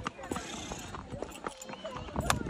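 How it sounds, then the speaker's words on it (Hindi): Horse hooves clip-clopping at a walking pace on a rocky, uneven trail at Sonmarg in Kashmir, a steady rhythm of close hoof strikes under people talking. "इस तरीके से जाएंगे घोड़े से,"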